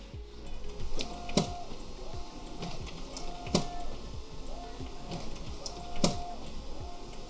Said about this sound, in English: Right, while that's printing, we're going to get the press set up